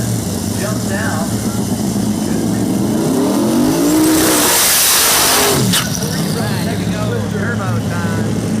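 A twin-turbo big-block drag racing car roars down the strip at a drag racing event, loud and steady, with a rising and falling pass in the middle. An announcer talks over the engine noise.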